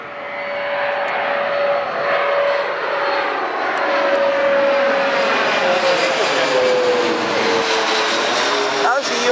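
A US Airways passenger jet comes in to land, its loud engine roar and whine sweeping steadily across the sky as it passes close overhead, with people talking beneath it.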